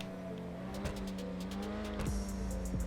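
Grotti Itali GTO Stinger TT sports car engine in GTA Online, a steady moderate drone with brief squeals and shifts, heard from a middle distance without voices.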